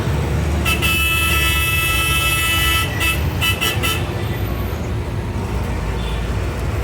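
Busy city road traffic in Coimbatore heard from aboard a bus, with a steady loud rumble and several car horns tooting in quick bursts early on, then continuing traffic noise.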